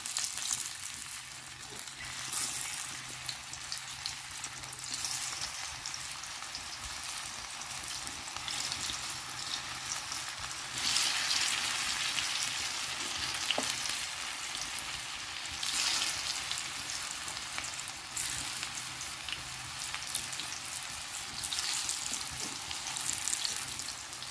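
Pieces of kath alu (yam) fry in hot oil on a tawa, giving a steady, close sizzle and crackle that runs throughout without pause, with no talking.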